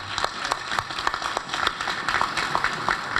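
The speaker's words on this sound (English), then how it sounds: "So another round of applause to." An assembly audience applauds with scattered, light clapping, moderately loud and steady for a few seconds.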